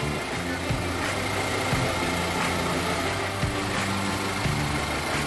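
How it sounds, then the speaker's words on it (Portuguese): A car engine idles steadily and close by during a transmission and Haldex oil change, a constant low mechanical hum with faint periodic beats and no voices. "O Lucas vai dar partida no veículo então"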